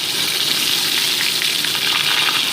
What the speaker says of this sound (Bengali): আলুর টুকরোগুলোকে মোটামুটি গোল্ডেন ব্রাউন করে আমি ভেজে নিচ্ছি।